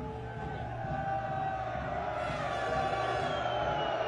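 Passionate football crowd in a stadium at an Asian Champions League match between Kashiwa and Suwon, a steady loud roar of many voices with faint whoops, continuous and broad throughout.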